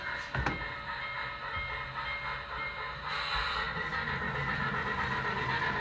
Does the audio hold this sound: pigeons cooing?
no